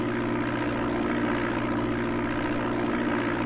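Steady, droning propeller-plane engine in the Amiga version of Flight Simulator II, heard alone at a constant loud level with no voices, a continuous hum without breaks.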